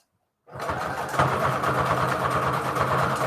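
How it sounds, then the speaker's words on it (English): A sewing machine zigzag-stitches fabric for a junk journal. The motor starts abruptly after a short silence and then runs as a steady, close mechanical whir. "I am using a zigzag stitch on this."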